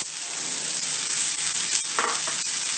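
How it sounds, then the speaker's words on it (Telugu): Sliced onions and cumin seeds fry in hot oil in a pan for moong dal, giving a steady, close, continuous sizzle with a brief stirring scrape near the end and no talk. "ఇది కొద్దిగా లైట్ బ్రౌన్ వచ్చే వరకు కూడా చక్కగా వేయించుకుంది ఉల్లిపాయలు"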